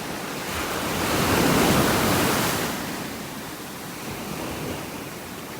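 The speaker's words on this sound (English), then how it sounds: "The waves are pretty strong here." Strong ocean waves break on a beach in North Naples, Florida, a loud surging wash that swells and recedes, with some wind rumble and no talking.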